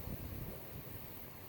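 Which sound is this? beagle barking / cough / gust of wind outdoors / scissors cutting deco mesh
gust of wind outdoors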